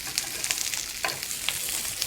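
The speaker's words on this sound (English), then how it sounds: "It's a good sizzle along with the mushrooms." Asparagus and mushrooms sizzle in oil in a non-stick skillet, a steady bright crackle with small pops and a brief rustle of tossing with tongs, close and alone with no talk.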